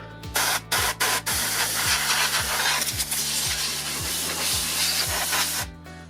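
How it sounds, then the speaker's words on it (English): Compressed air blasts hard into an old Antec Six Hundred PC case, starting with several short loud bursts and then turning into a long continuous hiss that stops abruptly near the end, with a low motor hum running throughout. "I'm going to get some compressed air"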